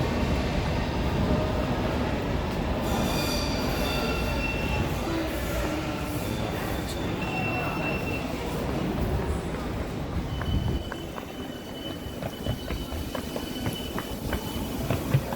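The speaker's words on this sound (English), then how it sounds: "This is an Uxbridge train." A London Underground train bound for Uxbridge pulls into the station, its wheels squealing with high-pitched whines over a loud, close, continuous rumble of the carriages on the rails.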